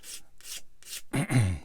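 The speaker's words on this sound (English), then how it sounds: "if you just stroke the sander across the bit, you should be fine" A sander is stroked across a small plastic part from a Bandai 1/144 Star Wars AT-AT model kit, making three short, soft rasping rubs followed by a longer, louder scraping pass, close by.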